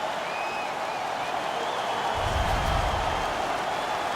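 Virtual hockey crowd in NHL 19 cheering after a fight, a broad steady roar of fans with applause swelling louder midway, with a faint high whistle-like tone above.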